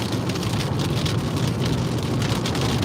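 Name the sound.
rain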